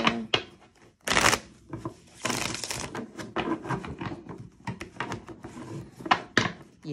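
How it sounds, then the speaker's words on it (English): A deck of tarot cards is shuffled by hand, with irregular riffling, rubbing and tapping bursts close by, some louder flurries between brief pauses, and no speech. "One more shuffle."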